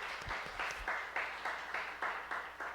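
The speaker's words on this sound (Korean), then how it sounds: "우리 환영의 박수 부탁드립니다" A Korean church congregation clapping in welcome during a Sunday service, a rhythmic unison clap repeating about every half second, moderately distant, with a few low thumps early on.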